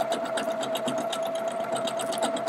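Husqvarna Viking Jade 20 sewing machine running steadily through decorative satin stitches, a fast, even mechanical whir with a sustained tonal hum, close and continuous with no talk.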